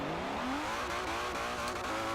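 A car launching from a standstill in the racing game Forza Motorsport 7 during drag tuning, its engine revving up steadily and loudly through rising gears with no talk.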